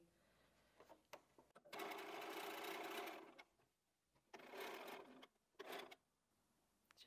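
A sewing machine stitches quilt block seams in several short and longer runs, with quiet pauses between bursts.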